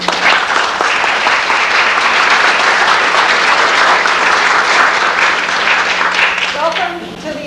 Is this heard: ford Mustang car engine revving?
no